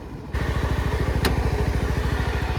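A 250SR motorcycle runs on a rocky dirt mountain road, its engine thumping in a fast, steady pulse that kicks in loudly after a brief quieter moment and carries on up close.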